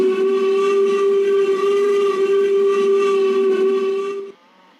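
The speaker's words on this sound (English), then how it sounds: "There was a feeble whistle." A long, steady steam train whistle blows with a rich harmonic tone for about four seconds, then cuts off into quiet.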